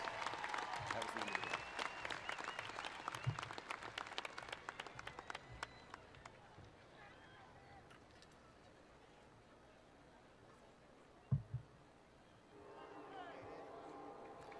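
A crowd applauds loudly at a Tift County High School graduation. The clapping thins out and fades, and a distant rumble of a passing train and a brief thud follow.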